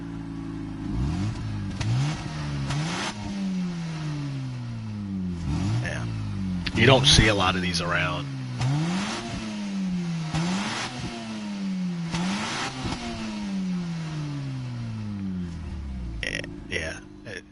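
Mazda RX-8 rotary engine in Gran Turismo 7 revving repeatedly, with rising and falling sweeps in a steady rhythm, loud and close, while someone talks over it.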